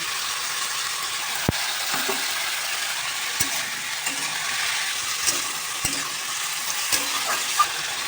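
Vegetables with garlic and salt sizzle and fry in a pan, steady hiss under intermittent sharp clanks of a spatula or spoon stirring against the pan, no voices.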